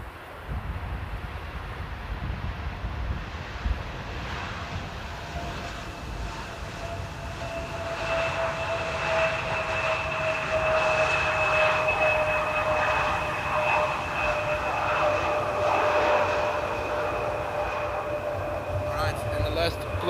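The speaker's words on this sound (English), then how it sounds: "Eastern Airways touching down, flying for KLM as well." An Eastern Airways airliner flying for KLM touches down at Amsterdam airport on a windy day, its engine roar and whine swelling and holding at mid distance under gusty wind.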